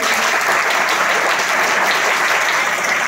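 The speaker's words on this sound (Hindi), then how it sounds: "एक बार जोरदार ताली बजाइए।" Students in a school audience give a strong round of applause, a loud, steady, dense clapping from many hands that fills the whole stretch without a break and with no speech over it.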